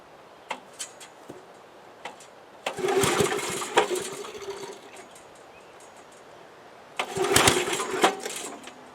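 An old lawn vac engine is spun up by hand without a clutch, giving two bursts of loud rattling, whirring mechanical effort separated by quieter clicks and knocks.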